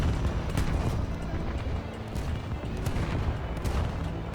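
The front gun of a Restigouche-class destroyer, HMCS Terra Nova, fires repeatedly in a naval combat game, giving loud, sharp reports over a heavy, steady background roar.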